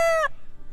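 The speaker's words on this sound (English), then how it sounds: "you can see our other rooster Dijon in the back" A rooster crows once, loud and close, the call cut short after a fraction of a second, followed by quiet outdoor background.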